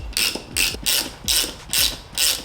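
Six evenly spaced bursts of ratchet clicking as a hand ratchet tightens the top bolt on a strut assembly for an Audi RS3 8Y, each burst crisp and close with short pauses between strokes.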